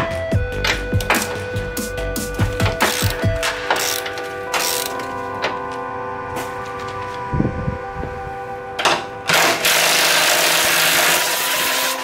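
An impact wrench breaks loose 21 mm bolts on the front bumper of a 2018 Ford F-150, sounding as rapid rattling hammer bursts with steady mechanical hum between them and a louder, sustained burst near the end, close and without talk.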